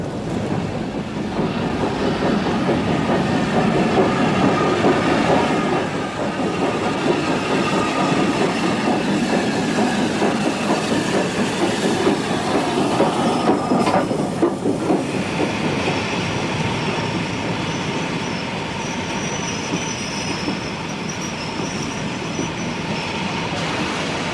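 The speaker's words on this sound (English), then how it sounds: "Ah, here's the train." A train pulls into a station with a steady rumble of rolling railcars, rhythmic wheel clatter and faint squeals, a continuous wash of noise with no voices.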